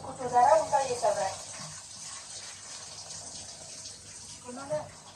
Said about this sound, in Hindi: अभी तो ये टंकी के पानी से ही धो रही हूँ मैं